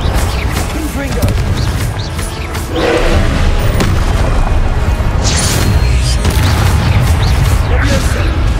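Fiery Confringo spell blasts in the Hogwarts Legacy video game, a loud booming burst that rolls into a sustained roar of crackling fire and impacts, dense and continuous with brief flares.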